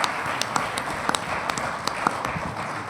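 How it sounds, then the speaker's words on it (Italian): Audience at a memorial gathering applauding to welcome the bishop, a continuous wash of clapping with scattered sharper claps close by. "Anche al nostro vescovo un affettuoso applauso di accoglienza."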